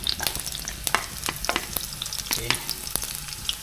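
Onion, ginger and garlic frying in hot oil give a crackling, popping sizzle with frequent spatter bursts and stirring clicks throughout, and a voice speaks a single word briefly.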